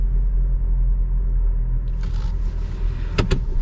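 A 2024 Chevy Colorado Trail Boss pickup idles with a low cabin rumble, then pulls away as mechanical whirring and a few sharp clicks rise over the steady drone.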